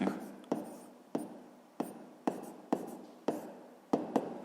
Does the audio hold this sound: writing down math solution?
yes